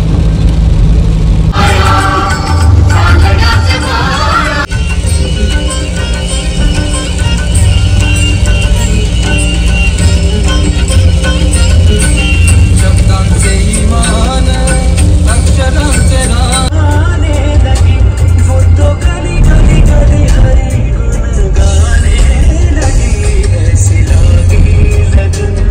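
A car cruising on a long-distance highway drive, heard from inside the cabin: a loud, steady low road and engine rumble runs throughout, with sustained tonal layers riding on top.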